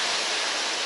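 A short stretch of broadband rushing water from a river waterfall passed along a mountain path in Iran, loud and constant with no talk over it.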